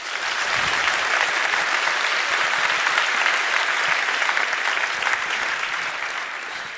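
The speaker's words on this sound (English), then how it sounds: "Can we hear the clapping?" A full auditorium breaks into sustained, dense clapping at a Nobel lecture celebration, loud and steady from start to finish with no voices over it.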